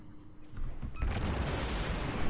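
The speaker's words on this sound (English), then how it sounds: "now he's got to withstand all the St. Louis guns" Guns of the St. Louis warship firing in World of Warships, a faint start building into a loud, continuous barrage of overlapping booms and rumble that keeps going with no voices over it.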